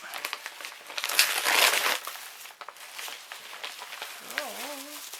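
Crinkling and rustling of wrapping from a mail-order package from the shop Cannelle et Citron being opened up close, with bursts of crumpling that swell in the middle and a brief voice near the end.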